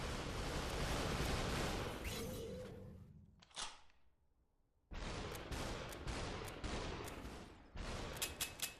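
Gunfire in the VR game SUPERHOT on Oculus Quest: dense bursts of shots, then a lull with a single sharp crack, followed by renewed rapid firing with distinct snapping reports near the end.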